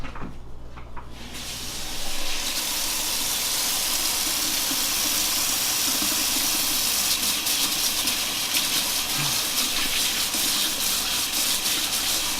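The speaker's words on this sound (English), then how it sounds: "I really need to wash my hands very good" Running tap water pours steadily at close range while hands are washed, a continuous hissing gush that swells after a quiet start and holds without voices.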